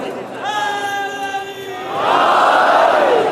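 A crowd at a majlis raises religious slogans; a single voice leads with a sustained call, then many voices answer together in a loud, swelling chant.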